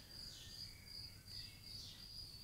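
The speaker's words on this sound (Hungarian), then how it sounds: "Az, hogy tücsök ciripelés vegyül a madarak énekébe, az van most" Crickets chirping steadily at a distance, blended with faint birdsong, at a Zen temple; soft, continuous and fairly quiet with no talking.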